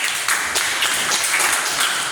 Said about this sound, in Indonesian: Kasih tepuk tangan untuk Sinomi.